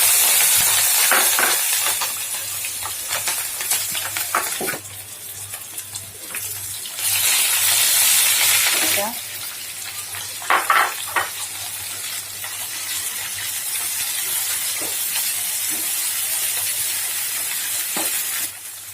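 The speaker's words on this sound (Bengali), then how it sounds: "ফ্রাই প্যানে তেল দিয়ে দিয়েছি তেলটা হিট হয়ে গিয়েছে তো আমি এখন পেঁয়াজ আর মরিচটা দিয়ে দিলাম" Onion and chili dropped into hot oil in a frying pan, loud bursts of sizzling that swell and ease, with stirring scrapes and spatters, continuing close and steady.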